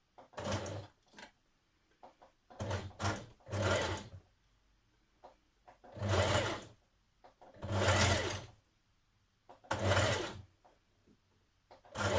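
A sewing machine stitches down the side of a folded fabric loop for a maxi dress, running in short bursts of whirring with quiet pauses between, close and fairly soft.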